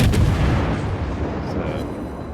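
Naval gunfire in the video game World of Warships: a loud booming blast at the start rolls off into a rumbling decay over a couple of seconds.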